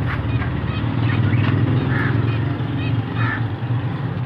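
Pet pigeons, parrots and sparrows kept in cages make harsh repeated calls and squawks close by, over a low steady hum, while people talk quietly in the background.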